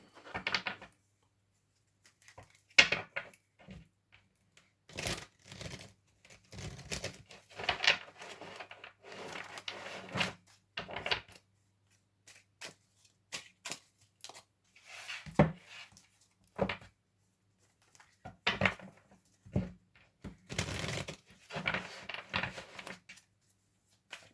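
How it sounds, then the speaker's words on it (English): Tarot cards are shuffled up close in short riffling, tapping bursts separated by quiet pauses, repeating irregularly. "Have a good old shuffle."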